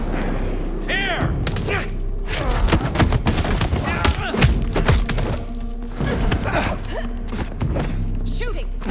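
Rapid bursts of gunfire crack through a combat scene in Vampire: The Masquerade – Bloodlines 2, sharp repeated shots and thuds scattered over several seconds amid game sounds and voices.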